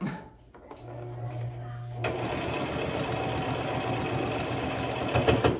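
Sewing machine running fast to stitch a simple fabric mask, including a back stitch. It starts after a short pause, then whirs in a loud, continuous mechanical rattle, close to the mic.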